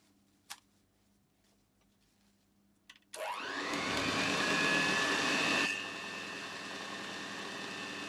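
An electric stand mixer, covered with cling film, starts up after a few faint clicks and whirs steadily and loudly, easing slightly lower partway through.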